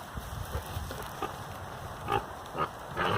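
Homestead pigs grunting and snuffling as they gather for treats, a steady low rumble of overlapping oinks with a few louder grunts near the end.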